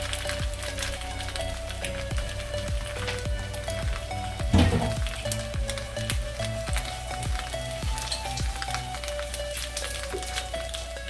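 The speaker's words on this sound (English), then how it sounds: "Nice little sizzle action." Food sizzles on a hot iron during cooking, a continuous crackling hiss with scattered pops, steady and close throughout, with a louder burst near the middle.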